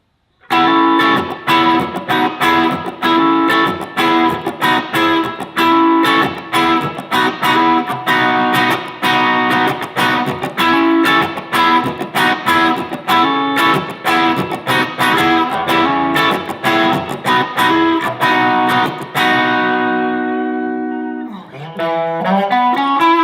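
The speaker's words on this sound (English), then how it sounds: "Now I'm going to move to both pickups, which has a very honky sound to it" A Burns London Sonic electric guitar on both pickups strums a steady run of chords with a bright, nasal, honky tone, loud and alone, ending on a let-ring chord and a short strum.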